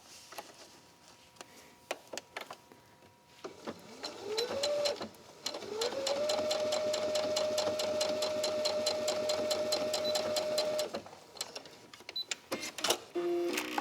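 A sewing machine stitches a fabric seam, starting up briefly, then running in a steady fast whirring stretch of several seconds before stopping, with scattered clicks and handling noises before and after.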